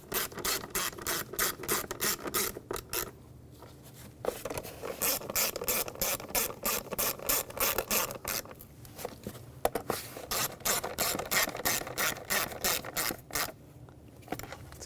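Ratchet wrench snugging down ignition coil bolts on a 2006-2010 BMW 550i 4.8L V8, rapid continuous clicking in long bursts with brief pauses, close and loud.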